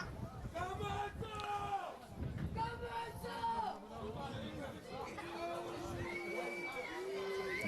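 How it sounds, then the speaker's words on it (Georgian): Spectators at a rugby match shout and call out in overlapping voices, a lively crowd din with rising individual yells standing out against the general hubbub. "ახლა შეუშლის თუ არა ხელს გოგი ტარიკაძეს გულშემატკივრის ეს შეძახილები"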